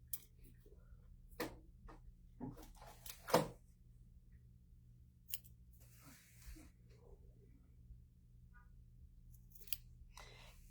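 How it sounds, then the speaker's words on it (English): Wave scissors snipping while trimming craft material for a turkey trivet, a few sharp, isolated cuts scattered with pauses between them, close and fairly quiet over a low background hum. "make sure you have some lovely wave scissors because it makes your trimming so much easier"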